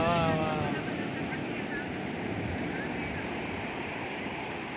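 Ocean surf rolls onto Honnavara beach in a steady broad wash, with wind buffeting the microphone and a brief voice near the start.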